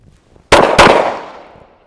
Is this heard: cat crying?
no